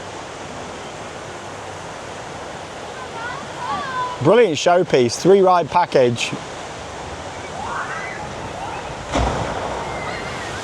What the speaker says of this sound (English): Pretty big splash.